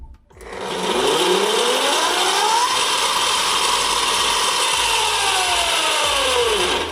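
Yozma IN10 Pro electric bike hub motor, converted to 72V, freewheeling with a loud steady whine that rises and falls in pitch, with a broad mechanical hiss beneath, running continuously for several seconds.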